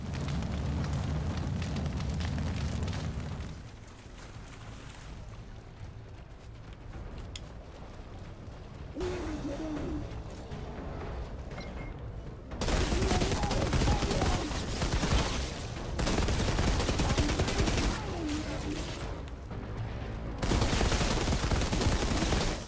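Rocket launcher blasts and gunfire in the video game Outriders, dense loud rumbling explosions and rapid shots filling the whole stretch, with intense bursts swelling in waves and no talk.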